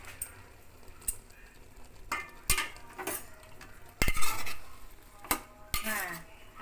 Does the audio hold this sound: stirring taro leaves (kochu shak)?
yes